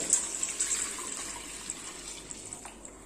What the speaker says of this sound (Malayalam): ഇനി ഞാൻ ഇതിലേക്ക് ആവശ്യത്തിന് വെള്ളമാണ് ഒഴിച്ചു കൊടുക്കുന്നത്